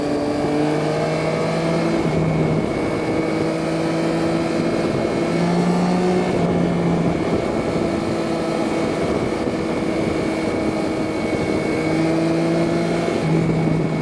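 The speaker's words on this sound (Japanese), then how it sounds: "先ほど言った直列3気筒エンジンのこうヒュルヒュルというか鈴の音のような音が混ざってくる回転域" A Yamaha Tracer 9 GT's inline three-cylinder engine runs loud and steady at highway speed in third gear, its tone rising and falling as the revs climb, with continuous wind rush throughout and no talking.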